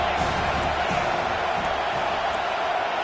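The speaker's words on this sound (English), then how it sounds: "This crowd trying to make life miserable for this offense." Stadium crowd in a college football video game, a loud, steady roar with no breaks, filling the whole stretch as a dense wash.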